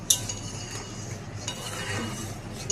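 Spiced pav bhaji mixture stirred in a pan, giving soft scraping and a few light metallic clinks of a utensil against the pan, close and quiet with no talk.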